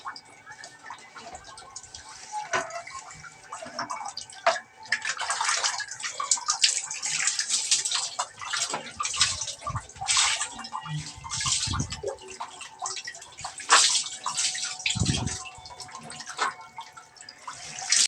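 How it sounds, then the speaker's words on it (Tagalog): Water poured and splashed while bathing a blind woman, with irregular pours and trickles close by and quiet talk now and then. "Pinapaliguan natin si Lisa."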